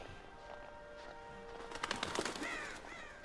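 A crow in the horror video game Until Dawn lets out a few harsh caws near the end, sharp and fairly close, after a quiet stretch of low ambient hum.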